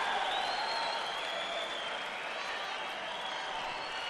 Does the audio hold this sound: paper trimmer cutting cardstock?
no